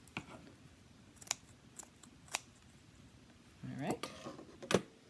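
Scissors snip along the edges of a fabric zippered pencil pouch in a handful of sharp, distinct cuts spaced apart, close by, with a person speaking briefly and some soft handling sounds.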